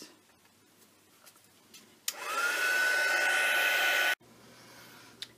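A heat tool or hair dryer blows over wet acrylic paint, switching on abruptly for a steady, loud two-second whoosh with a faint whine, then cutting off into quiet room tone.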